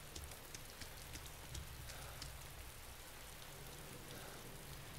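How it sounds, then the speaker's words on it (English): Steady rain falling in the video game ArmA 2 DayZ, a continuous broadband hiss with scattered droplet patter and a low rumbling undertone, even and moderately loud throughout with no talking. "It's funny how the rain works."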